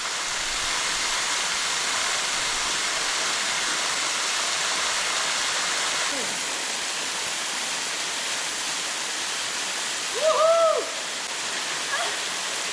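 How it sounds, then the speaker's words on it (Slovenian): Waterfall at a freshwater swimming spot in central Istria, a steady loud broadband rush of falling water that fills the whole stretch, with a couple of faint chirp-like sounds near the end. "Zdaj pa gremo kar pod slap."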